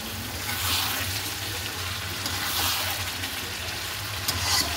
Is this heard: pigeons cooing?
no